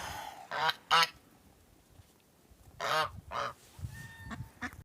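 Several loud goose honks come in two separate bursts with a quiet stretch between them, followed by softer, scattered honking near the end.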